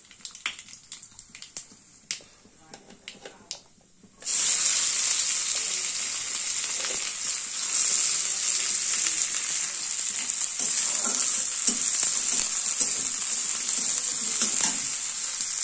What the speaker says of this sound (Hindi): तेल हो चुके हैं गरम, ये है सरसों और सूखी मिर्च।